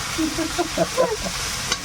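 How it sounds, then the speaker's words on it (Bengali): Nigella seeds sizzle in hot oil with a continuous close hiss and light popping, alongside a soft stirring sound. "একটু কালো জিরে তেলের মধ্যে দিলাম"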